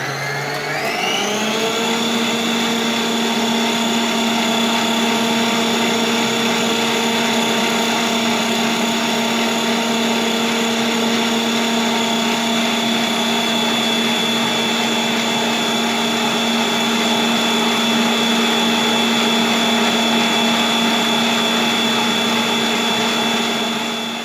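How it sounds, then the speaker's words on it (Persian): An electric hand mixer beats cookie dough in a steady, loud, continuous whine that holds an unchanging pitch from start to finish, with no talking over it. "من با میکسر لب میزنم"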